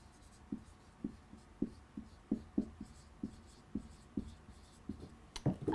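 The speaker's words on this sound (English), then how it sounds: "let me write this down" Someone writes by hand, producing a series of quiet, close pen strokes and taps in an uneven rhythm, with a louder scrape and knock at the end.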